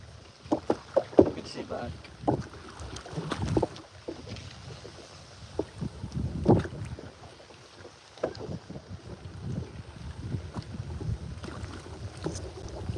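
Paddle strokes splash and knock irregularly against a boat on a lake, mixed with wind buffeting the microphone, while a voice talks over parts of it.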